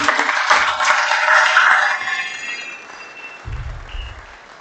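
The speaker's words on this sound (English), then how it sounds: "can we give a round of applause, please, to our Year 7, 8 and 9 swimmers" Students and staff at a school sport assembly give a round of applause for Year 7, 8 and 9 swimmers; the clapping starts strong, then thins and fades, with a few low thumps near the end.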